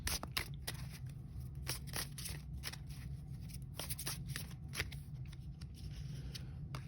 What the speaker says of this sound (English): We'll pull 5 cards from the Gilded Tarot Royale.